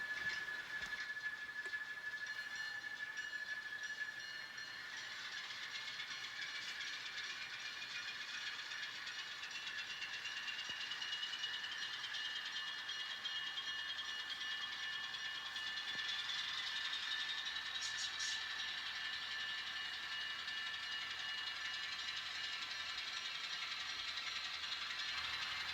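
An N scale model train coasting along its track, making a faint, steady high-pitched whir and light rattle that runs throughout with slight swells.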